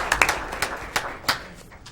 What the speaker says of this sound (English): I'd like to just join in a round of applause for all of them for participating with us this evening